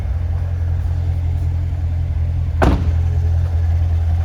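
A 2017 Chevrolet Corvette Stingray coupe with a 7-speed and the NPP performance exhaust valves open idles with a deep, steady rumble, close and loud, with a sharp brief blip of the throttle about midway before settling back to idle.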